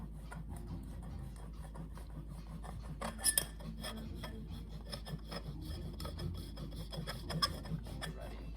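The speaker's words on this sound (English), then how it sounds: "I'm going to use my microplane, which I adore, for my Parmesan cheese" Fresh Parmesan cheese grated on a microplane, soft close rasping strokes in an even rhythm with a couple of brighter metallic scrapes, quiet overall.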